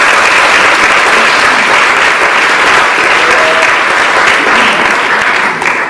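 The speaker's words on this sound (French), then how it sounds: "Et on va tous applaudir." A loud, sustained burst of audience applause at the final of an eloquence contest in Bordeaux, with dense clapping filling the hall without a break.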